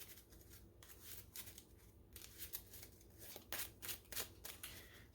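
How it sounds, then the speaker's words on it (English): A deck of cards shuffled during a tabletop card game, heard as quiet, close riffling and snapping bursts that quicken toward the end, with no talk. "Shuffle."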